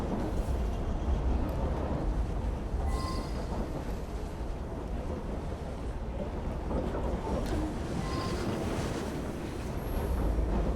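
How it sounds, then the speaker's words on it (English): In Assassin's Creed Syndicate, a steady, continuous rumbling rush of a moving train, broad and noisy throughout, with faint intermittent tonal squeaks and rattles above the drone. "it's a noisy train"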